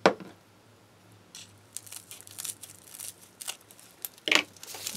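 Scissors cutting fabric or strap material for a sewing project, a few sharp snips and crisp rustles spaced irregularly, close and fairly quiet, with no talk during them.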